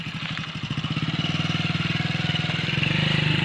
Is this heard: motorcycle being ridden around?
yes